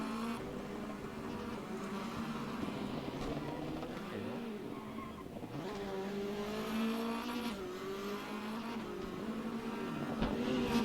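Engines of many race cars in the Assetto Corsa video game at Goodwood drone and whine together in a steady, continuous roar, with pitch rising and falling as they jostle closely.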